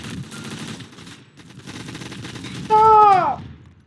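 Gunfire in the video game Gun Fire Arena comes as a run of rapid shots amid game noise, ending in a loud rising whine near the end.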